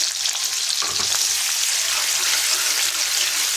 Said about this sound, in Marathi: मिरची चांगली तडतडली की त्याच्यामध्ये लसूण टाकायचे